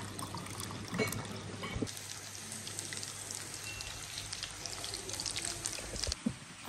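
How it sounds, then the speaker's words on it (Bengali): Sugar sherbet mixed with cold water pours in a steady trickle at home, a soft continuous watery splashing with a few louder drips and clinks near the start and end, no talking over it. "আমার বোনটা কিন্তু শরবতগুলো করে নিচ্ছে। আমাদের জন্য চিনি দিয়ে আর ঠান্ডা পানি দিয়ে করবে"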